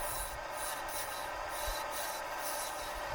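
A woodturning tool rasps steadily against a spinning wooden bowl on a lathe, giving a continuous close scraping with soft periodic swells and no talk.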